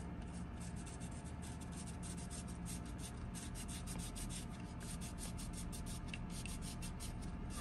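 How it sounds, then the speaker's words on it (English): Quiet, continuous rubbing of sandpaper against a Baofeng radio antenna, steady back-and-forth strokes with a faint rhythmic scratchiness, close up and soft, with no voices. "Sand that real good."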